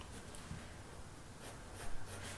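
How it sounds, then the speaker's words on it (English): A pencil sketches watch bracelet links on paper, giving faint close scratchy strokes in short bursts over a quiet background. "So just going ahead, sketching these in,"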